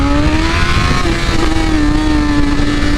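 A tuned 2023 BMW S1000RR sport bike engine sounds loud and close throughout, a steady high-revving drone with a slightly wavering pitch as it changes gears, with no talk over it.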